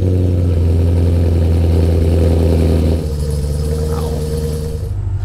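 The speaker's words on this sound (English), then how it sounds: "we are going for a ride in the supercharged Camaro." A supercharged Chevrolet Camaro's engine rumbles loud and close from inside the car during a ride, holding a steady deep drone that drops slightly after a few seconds and then carries on.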